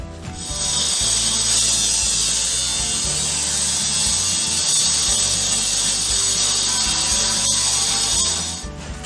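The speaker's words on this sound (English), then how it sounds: "I'm gonna shut this off and go back to the angle grinder." An angle grinder cuts on the mounting of a school bus driver's seat during a skoolie conversion. It gives a loud, continuous, high-pitched grinding whine with a rough rattling underneath, held steady for several seconds up close.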